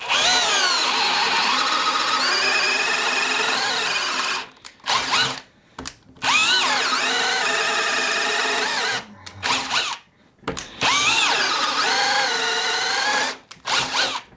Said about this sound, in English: we are going to move our upper control to the drill right here, and let's see what it actually does.